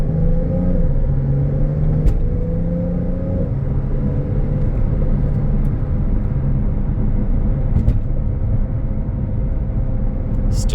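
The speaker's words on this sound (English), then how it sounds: "we're going on a quick test drive here" A 2024 Porsche 911 Turbo S on a test drive gives a steady, loud cabin rumble of engine and road noise, with gear-change pitch shifts early on and a few faint clicks.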